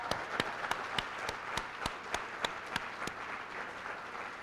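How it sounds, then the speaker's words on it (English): An audience at a Worcester Public Schools awards gathering applauds student artwork and performances, with a steady wash of clapping and sharp, evenly spaced loud claps standing out near the front throughout. "how about a huge round of applause for all of our student artwork and all of our student performances"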